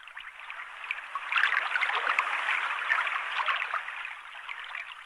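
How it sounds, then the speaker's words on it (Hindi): Floodwater flowing everywhere, a continuous hissing rush of moving water that swells slightly partway through and holds steady, fairly close, with no voices. "लो, सब तरफ पानी ही बहने लगता है।"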